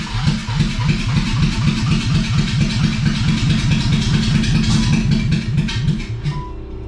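A BMW E30 fitted with an M50 engine runs just after its first start, a loud, steady, close idle with an uneven pulsing beat that drops off near the end.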